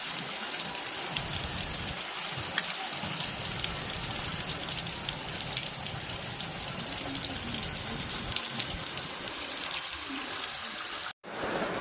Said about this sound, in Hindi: बादल भी इतनी तेज़ रो रहे हैं कि आज सुबह से बारिश रुकी ही नहीं है